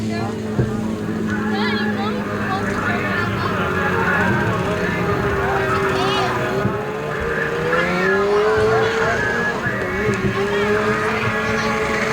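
Race cars roar around the short-track Gulf Coast Speedway in Texas, with engine notes rising and falling as they pass. The sound is loud and continuous, with voices faintly mixed into the din.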